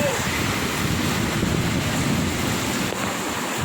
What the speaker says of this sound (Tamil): மழை எப்படி இருக்குன்னு பாருங்கள் புயல் காற்றோட மழை